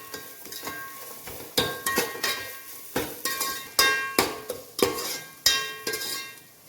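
Masala being stirred and fried on a low flame for egg dum biryani, a spoon scraping and knocking against the pan in a steady series of sharp, close clinks over a soft sizzle.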